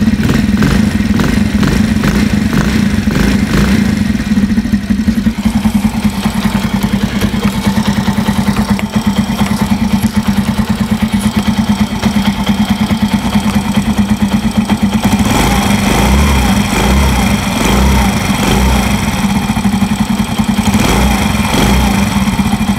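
A motorcycle engine idles steadily after an exhaust gasket replacement, with a low, even exhaust rumble and some mechanical clatter, recorded close to the exhaust pipe, with no voices.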